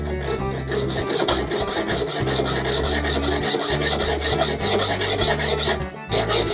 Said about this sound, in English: So, this was my bastard file, as I said, and I've just started working this hump here.